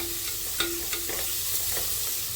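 Capsicum and bay leaf sizzle steadily in hot oil, a continuous close frying hiss broken by a few soft stirring scrapes and clinks, with no voices.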